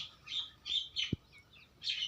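Several short, bright pigeon calls come in bursts against a quiet village outdoor background, with one low dull thump partway through.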